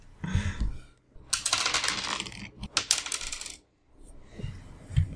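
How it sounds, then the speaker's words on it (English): A large handful of dice rolled together onto a tabletop during a tabletop roleplaying game, a rattling clatter that swells and tumbles for about two seconds, with brief knocking at the start and end. "It's a lot of dice being rolled."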